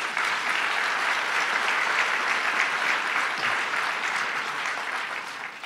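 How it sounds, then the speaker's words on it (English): An audience applauds a speaker at a civic forum on building a new New York, the clapping steady, dense and loud for the whole stretch with no voices over it. "Let's give Bill a round of applause."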